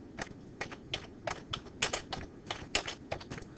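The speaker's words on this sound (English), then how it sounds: "you can start by just typing a note" Someone types on a computer keyboard, tapping out a note in short, irregular bursts of crisp key clicks, close and alone.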